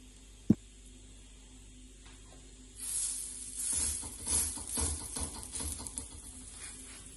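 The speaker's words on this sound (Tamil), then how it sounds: "தோசை தவாலேயே நம்ம வச்சு எடுத்துடலாம்." Corn cutlet frying on a dosa tawa, a steady soft sizzle that grows louder partway through, with crackling pops and bursts over a low hum.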